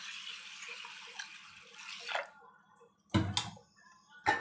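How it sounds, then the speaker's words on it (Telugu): Water is poured into a kitchen container of washed sorghum grains for soaking, a soft trickle followed by a few sharp splashes and knocks, quiet and close. "దీనిలో నీళ్ళు పోసేసుకొని"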